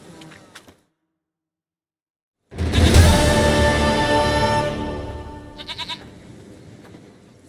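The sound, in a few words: goat bleating in The Witcher 3 video game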